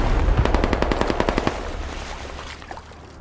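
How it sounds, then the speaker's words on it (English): An M240 machine gun in the video game Squad fires a rapid, loud sustained burst of evenly spaced shots for about a second and a half, then the echo fades with distant rumbling gunfire behind. "somewhere where I can get this MG set up"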